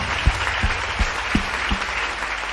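A church congregation at a Sunday worship service claps steadily, with a few louder beats standing out, a short burst of applause with no voices over it.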